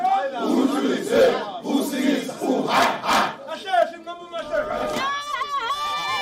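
A large Zulu crowd at King Misuzulu's coronation raises a loud, rhythmic chant and battle cry in surging waves, and sustained sung and called voices rise near the end.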